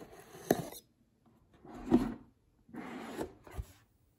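A Buffalo Games Tetris board game box held shut by two strips of tape is opened, giving three separate bursts of scraping, rasping cardboard and tape noise with quiet pauses between them, close by and fairly soft.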